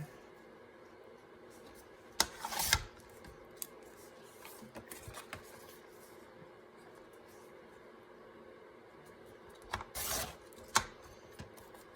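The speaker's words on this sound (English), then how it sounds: "I think I'm just going to take and trim these 2 edges because it can be a little smaller" Paper edges are trimmed for a page, with two short crisp bursts of cutting a few seconds apart over quiet room background.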